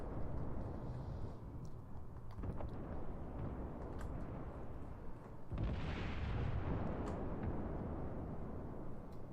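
Warship secondary guns firing in World of Warships, a dense run of rumbling booms and blasts with a heavier burst partway through, loud and continuous without speech.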